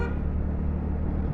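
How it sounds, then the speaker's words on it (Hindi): A car horn honks on a busy Indian road, heard from a TVS Ntorq scooter near a Scorpio SUV, a steady loud blare over engine rumble and traffic noise. "ये चूतिया हॉर्न मारता रहता है"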